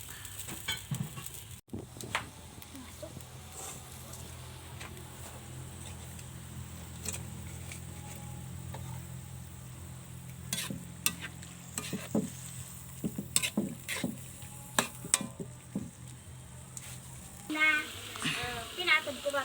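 Oil sizzles and bubbles in a pan, with a steady low frying hiss broken by clinks of stirring; someone talks faintly in the background.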